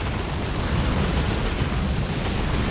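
Stikkbomb grenade explosions in the Dawn of War 2 strategy game, a continuous dense roar of overlapping blasts and rumble, steady and loud throughout with no distinct pauses.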